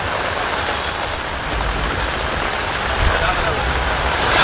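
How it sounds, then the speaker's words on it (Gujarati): Steady rain pouring over a city street in Ahmedabad, a dense continuous hiss that stays loud and even throughout, with a reporter's voice partly under it. "હજુ પણ વરસાદ વરસી રહ્યો છે"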